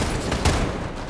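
Gunfire in Fortnite Zero Builds: a rattling volley of shots with one sharper, louder crack near the middle, echoing out as a brief burst of combat.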